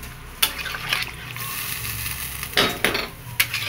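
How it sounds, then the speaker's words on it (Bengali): A spoon stirring Kashmiri aloo dum in gravy in a cooking pot, making close metallic scrapes and clinks at an uneven pace over a soft bubbling simmer. "এবার আমি নাড়িয়ে নেব"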